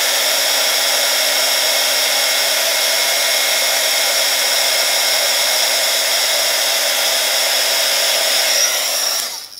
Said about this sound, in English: heat it up with your heat tool